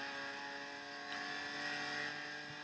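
BMW M4 GT4 race car engine at GT4 America SprintX, Circuit of the Americas, played back at double speed, giving a high, steady whine with rich harmonics that rises slightly near the end, with no voices.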